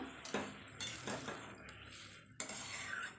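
A metal lid clanks onto a cooking pot, several sharp clinks and scrapes of metal on metal, close and fairly quiet, with short gaps between the hits.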